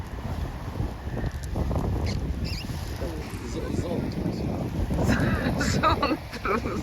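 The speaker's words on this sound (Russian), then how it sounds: "наш парус трясется при любом," A beach sail or shade flapping and shaking in gusty seaside wind, with a steady rumbling wind buffet and fluttering rustles close to the microphone while people talk over it.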